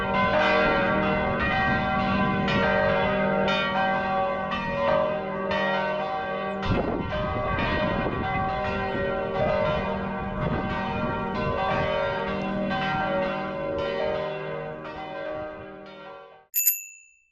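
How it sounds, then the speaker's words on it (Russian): Midday church bells peal from a church in Tykocin, Poland, a rich, continuous ringing of several overlapping bells that sustains loudly and evenly for the whole stretch before stopping abruptly at the end. "я услышал полуденный перезвон колоколов на костеле"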